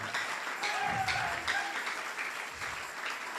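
A church congregation applauds in worship, steady dense clapping at moderate level with some vocal sounds mixed in, swelling slightly in waves over a few seconds.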